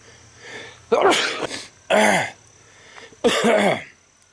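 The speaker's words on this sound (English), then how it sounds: "This pepper is a pepper that makes me sneeze." Three loud, sharp sneezes burst out close by, spaced about a second apart, with quiet pauses between them, set off by handling a Mulato Isleno chili pepper.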